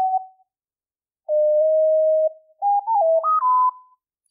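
A sine wave synth patch built in Reactor and played live in Reaper sounds as a clean, pure electronic tone, a short blip followed by a held note and a stepping run of pitches that mimic a meadowlark melody.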